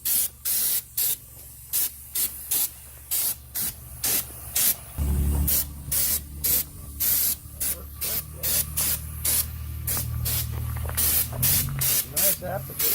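Spray applicator hissing Raptor bedliner onto a 1988-98 GMC/Chevy C/K 1500 Stepside truck bed in rapid regular bursts, then a longer continuous spray, with people talking underneath.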